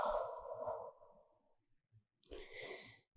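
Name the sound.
deep exhale during yoga breathing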